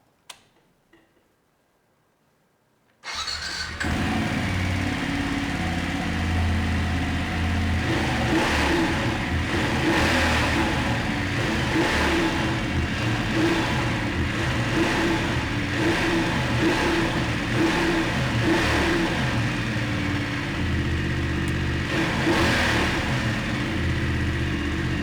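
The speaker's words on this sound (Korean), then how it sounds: "머플러 소리 한번 들어보도록 하겠습니다." A 2021 BMW F850GS Adventure 40th anniversary motorcycle with its stock muffler starts up after a short silence, then idles and revs in repeated moderate bursts, close and fairly restrained, for over twenty seconds.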